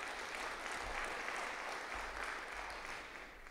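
Steady applause from an auditorium audience at a university state-of-the-university address, a dense even wash of clapping that holds for several seconds before easing slightly at the end.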